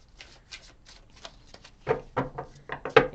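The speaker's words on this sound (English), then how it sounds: "I hate shuffling these cards because I trimmed them" A deck of trimmed tarot cards with unfinished edges is shuffled close by in quick, riffling bursts, soft at first and then louder, each shuffle a brief papery flutter.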